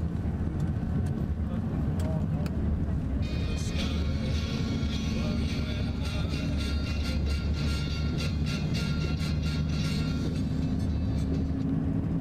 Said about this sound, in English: This was the traffic that we were waiting for.